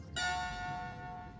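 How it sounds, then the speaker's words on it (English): A gong struck once in a Star Trek scene, with a sharp onset and a sustained, shimmering metallic ring that holds steady and fades only slightly. "Now he's ringing the gong."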